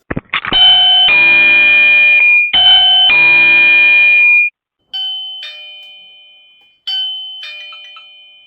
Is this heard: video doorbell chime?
yes